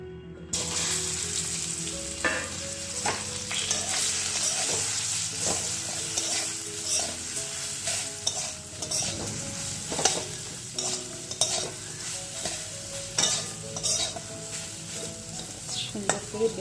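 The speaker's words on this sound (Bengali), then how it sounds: "এই বেগুনটা এখন আমি নুন হলুদ দিয়ে ভেজে নিয়ে আসছি" Eggplant fries in oil in a wok with salt and turmeric, giving a continuous bright sizzle with frequent metal-on-metal stirring scrapes and clinks, close and fairly loud throughout.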